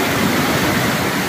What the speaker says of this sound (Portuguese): É muita água aqui no Rio Pardo